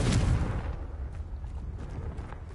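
A Confringo blasting spell explodes in Hogwarts Legacy, one loud booming burst at the start that rolls into a rumbling, crackling decay.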